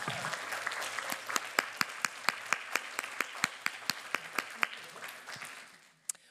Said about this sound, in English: So I think Rosaline absolutely deserves a big applause.